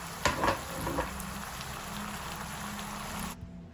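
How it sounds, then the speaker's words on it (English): Minced pork stir-frying in a pan with oyster sauce, sugar and black pepper, a soft steady sizzle with a few scraping stir clicks near the start, faint and even, ending abruptly. "Stir well to coat the pork evenly."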